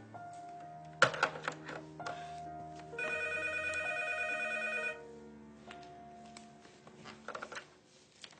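A telephone rings in a quiet room, a sharp electronic trill sounding in a steady burst after a few knocks and clatters, followed by faint scattered noises.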